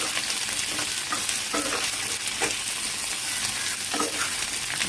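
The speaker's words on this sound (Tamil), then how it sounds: "எண்ணெயில் போட்டு வதக்கி நல்லா வதங்கணும்" Onions sauté in hot oil in a pan for tomato onion chutney, a steady loud sizzle broken by repeated scraping stirs at irregular intervals, with no voices.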